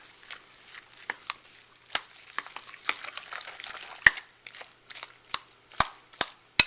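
Eggs being mixed into ground meat for Salisbury steak by hand or spoon, heard as a series of close, soft, wet squelches and slaps at an uneven rhythm, fairly quiet.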